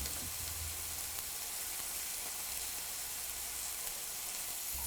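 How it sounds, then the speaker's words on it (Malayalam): Fish pieces shallow frying in a pan over medium flame, a steady close sizzle and crackle of oil running throughout without a break, with no talking. "രണ്ട് സൈഡും 2-3 മിനിറ്റ് മീഡിയം ഫ്ലെയിമിൽ ഷാലോ ഫ്രൈ ചെയ്തെടുക്കണം."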